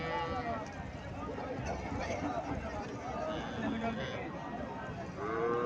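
A Friesian cow lows amid a busy cattle market, its moo rising over a constant crowd murmur, with people talking and bargaining all around.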